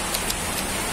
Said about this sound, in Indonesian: Langsung hujan besar, hujan angin ya.